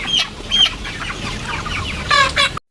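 A hen clucking close by in a few loud, sharp bursts, with quieter clucks between them, then an abrupt cutoff and silence at the end.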